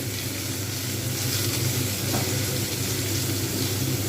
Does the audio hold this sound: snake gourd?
yes